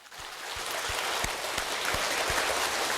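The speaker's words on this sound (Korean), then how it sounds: "축복의 박수 한번 하겠습니다" A church congregation claps together in blessing during a worship service, a broad wash of clapping with a few sharper hits standing out, building slightly and holding steady.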